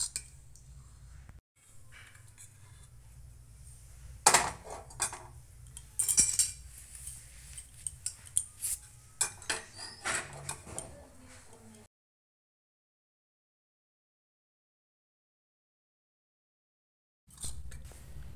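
A spoon clinks and scrapes against a pot while rice-flour batter is stirred on the gas stove, giving irregular close metallic taps that stop abruptly, followed by near silence and a brief return of sound.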